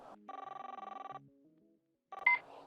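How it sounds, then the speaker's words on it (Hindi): A phone rings with an incoming call, playing a quiet melodic ringtone of quick pulsing tones that stops briefly and then starts up again, with no talking over it. "फोन आ रहा"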